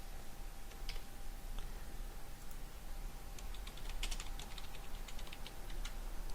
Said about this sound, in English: I typed the DC number over here and I pressed enter